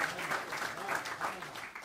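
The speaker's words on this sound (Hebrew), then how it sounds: "מגיע לו כפיים" Applause from a live audience at a Torah faith lecture, a steady dense burst of clapping that swells and holds for a couple of seconds with some crowd voices mixed in.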